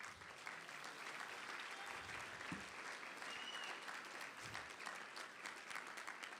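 An audience at an awards dinner claps in sustained applause for the servers, even and unbroken, heard from a distance at modest volume.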